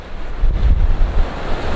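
Waves and surf breaking on the shore at Saddle Cove, with white water rolling in under steady wind noise, the low rumble of each wash swelling and fading without voices.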